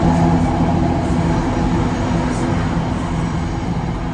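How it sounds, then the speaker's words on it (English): A loud, continuous rumble with a steady mechanical roar, like a train rolling past close by. "You see the train behind me?"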